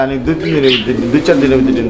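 A pair of yellow Helicopter pigeons, male and female, coo in soft repeated calls close by, partly under a voice talking.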